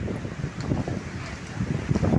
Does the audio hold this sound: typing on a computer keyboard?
no